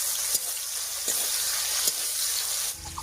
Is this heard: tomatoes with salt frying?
yes